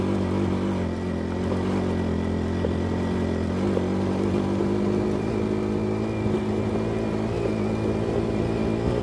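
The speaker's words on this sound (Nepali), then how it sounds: "बाइक त ब्रुङ्की ब्रुङ उफ्रिँदो रहेछ" A motorbike rides up a rough stone hill road toward Sailung in Dolakha, Nepal. Its engine gives a continuous, fairly loud drone with slight surges as it bumps along, and no one speaks.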